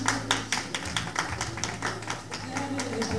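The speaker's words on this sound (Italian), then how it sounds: "E sotto i vostri applausi ancora diamo un benvenuto a questi sposi." Wedding guests clap for the newly married bride and groom, a steady patter of scattered hand claps with distinct sharp claps standing out, under a low hum of voices and background music.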